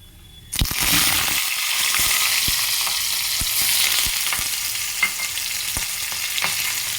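Green chillies and garlic dropped into hot oil already seasoned with nigella seeds, erupting into a loud, steady sizzle that holds throughout, with a few sharp pops and spoon clinks over the frying.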